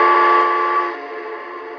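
Whistle of a Lionel TMCC K4 model steam locomotive, a single loud steady multi-tone blast heard up close that holds for about a second and then fades slightly as it trails off.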